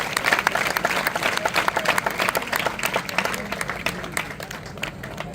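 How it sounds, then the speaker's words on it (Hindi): Dense applause from an audience at Sachin Tendulkar's visit to Bastar, many hands clapping continuously and fairly loud throughout, tapering slightly toward the end. "सबके लिए तालियां बजा सकते हो"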